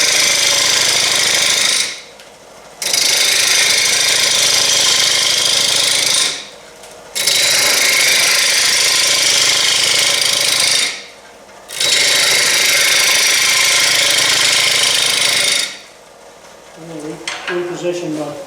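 A wood lathe turns a natural edge bowl from a tree limb, with loud sustained cutting and rumbling in four long passes broken by short quiet pauses.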